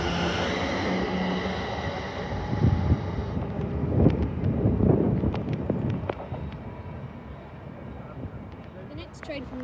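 A train pulls out of Stevenage station on the East Coast Main Line, its rumble swelling and fading under gusty wind buffeting the microphone, with a voice heard faintly.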